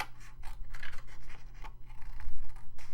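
Scissors cut out paper cards close to the microphone, a run of short crisp snips and rustling paper over a low steady hum, with no voices.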